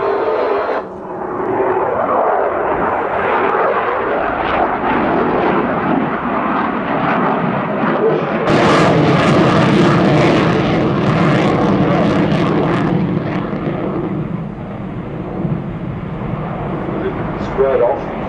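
A Boeing Super Hornet fighter jet flies at the Farnborough airshow, its loud broadband engine roar holding throughout and swelling midway as it passes, with a commentator talking over it.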